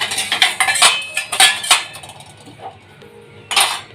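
Steel utensils clank and clink against a kitchen dish stand in a quick burst of loud, close metallic hits, a pause with a lighter tap, then one more sharp clatter.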